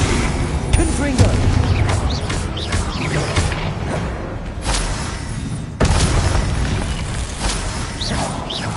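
Explosions and magic effects from the Confringo spell in Hogwarts Legacy, with game booms and mechanical rumbles under dense background music, a brief drop near the middle, then the full mix again.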